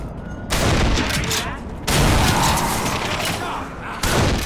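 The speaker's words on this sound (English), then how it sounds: "A nice moment late in the game presents you with this cool lever-action shotgun" Lever-action shotgun in a first-person shooter video game fires three loud, booming blasts, each a sharp attack with a sustained roar and reverberant tail, close and dominant with no talk over them.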